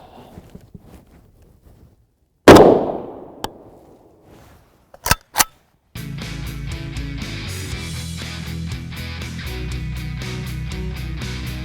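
One sharp, loud crack from a 10-inch PAP rifle firing a 123-grain 7.62x39mm FMJ round into a clear ballistic gel block rings out and decays, followed by a few faint clicks and then steady music.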